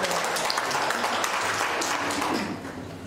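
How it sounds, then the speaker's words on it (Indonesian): Applause for West Java from an audience at a gathering: dense, continuous clapping from many hands, moderately loud, tapering slightly toward the end. "Tepuk tangan dong buat Jawa Barat"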